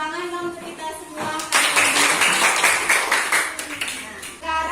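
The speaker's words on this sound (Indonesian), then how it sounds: "Beri tepuk tangan dong untuk kita semua." A classroom group claps along at a school lesson, a dense burst of hand claps rising after a short spoken lead-in, fairly close and steady for a few seconds before tapering off.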